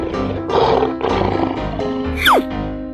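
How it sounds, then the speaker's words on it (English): A lion in a 3D animal slide video game lets out a few loud, rough roaring bursts over background game music, ending with a quick descending whistle-like effect. "lion,"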